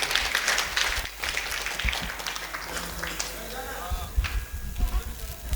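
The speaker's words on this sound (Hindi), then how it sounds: "इनके नाम से जोरदार तालियां स्वागत है।" Crowd applause at a religious ashram gathering in India, scattered clapping mixed with murmuring voices and a speaker talking over it.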